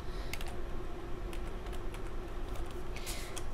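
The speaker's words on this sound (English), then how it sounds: "what you can do is just start to type in" Computer keyboard being typed on, a quick irregular run of light key clicks over a steady low room hum, close and without speech.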